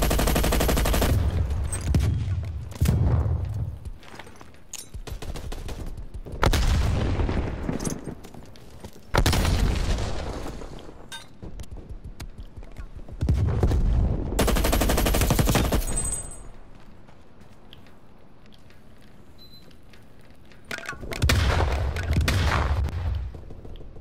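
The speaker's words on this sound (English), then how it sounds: "Now the LMG." Stoner light machine gun fires in long sustained bursts in a shooter video game, loud and close, several rapid automatic volleys separated by short pauses, with no talking over them.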